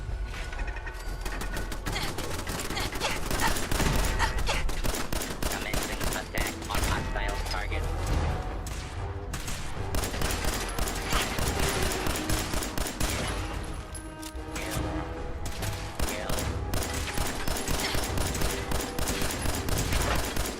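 Sustained gunfire in the Fallout 4 video game, dense rapid volleys and automatic bursts crackling almost without pause for twenty seconds, loud and close, with mechanical clatter mixed in and no talk over it.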